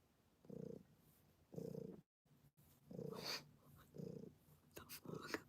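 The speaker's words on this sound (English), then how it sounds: "you purr like that?" A cat purring close and faint in rhythmic rumbling pulses, each breath cycle audible, with brief soft breathy noise between them.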